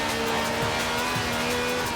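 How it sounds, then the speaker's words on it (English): Mini Cooper doing a rolling burnout in Forza Horizon 4, a steady sustained tire squeal over a continuous engine drone, loud and close throughout with no talking. "A good old-fashioned rolling burnout."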